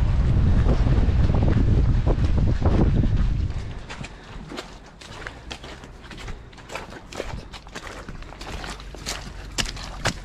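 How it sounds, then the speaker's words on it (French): Strong coastal wind blasts the microphone during a 92 km ultra trail race along the Côtes d'Armor, a loud roaring rush for a few seconds that then drops to softer gusts with scattered crackling and footstep-like ticks. "Il y a un vent de bâtard."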